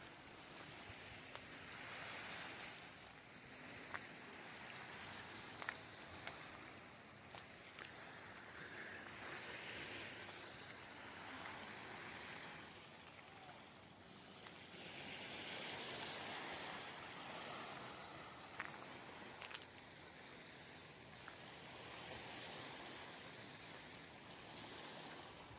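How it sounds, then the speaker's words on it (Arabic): Steady wash of Red Sea waves at Sharm el-Sheikh in the morning, surges swelling and receding every few seconds, a broad continuous roar with no voices. "سامعين صوت الموج؟"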